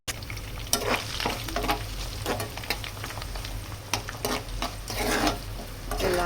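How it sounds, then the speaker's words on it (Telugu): Onions crackle and hiss in hot oil with curry leaves while a spoon keeps stirring them in the pan, producing frequent clattering scrapes over a steady close-up sizzle. "ఆనియన్స్ వేసుకొని ఒకసారి అయితే కలుపుకుందాం"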